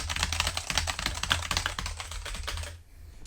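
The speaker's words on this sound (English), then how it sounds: "I like the thocky type of keyboards because, you know, these things here, I'll let you listen really quick." Fast, steady clatter of keys typed on a Razer mechanical keyboard, close and continuous, with a brief pause near the end before typing resumes.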